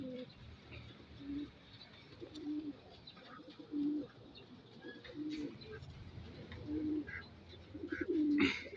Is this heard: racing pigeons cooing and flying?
yes